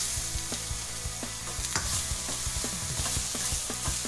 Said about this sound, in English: the capsicum peppers and the garlic in all at once. And just give that a little cook through.